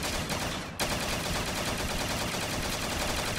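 A Pack-a-Punched Striker shotgun fires in Black Ops 3 Zombies: loud, dense blasts run together almost continuously, with one brief dip near the start before the barrage resumes at full strength.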